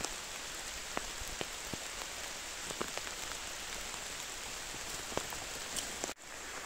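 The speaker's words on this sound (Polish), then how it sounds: "Pada." Steady rain falls in a forest during a September mushroom hunt, soft constant hiss with scattered drips and taps, fairly faint and even, with no voices.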